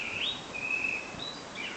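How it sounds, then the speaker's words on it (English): A blackbird sings a few clear whistled phrases, moderately loud over a steady background hiss, with no other sounds. "blackbird,"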